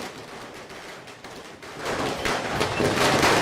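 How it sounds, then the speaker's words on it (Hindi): Fireworks crackle and pop in dense bursts during a Ganesh immersion procession on crowded Mumbai streets, starting sparse and growing into a loud, continuous barrage toward the end. "आतिशबाजी हो रही है"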